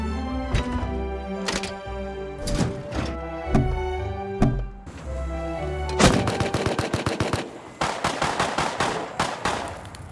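Auto turrets firing during a raid in the survival game Rust: bursts of sharp gunshots, sparse at first and then rapid sustained volleys toward the end, loud and close with thudding impacts.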